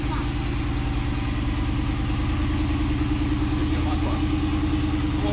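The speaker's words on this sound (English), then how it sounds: "if you want to hear it rumble, let's let them hear it rumble." A 2020 Ram 2500 Tradesman with a Hemi engine idles with a steady, loud low rumble close by, a constant throbbing pulse that holds through the clip.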